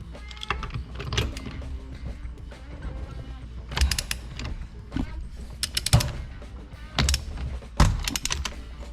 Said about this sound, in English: we can remove that center nut that holds on the actual wheel